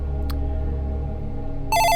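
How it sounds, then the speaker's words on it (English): A mobile phone rings loudly with a bright electronic ringtone that cuts in near the end, rising over a low hum after a brief earlier blip, with no one speaking. "What's my phone going off?"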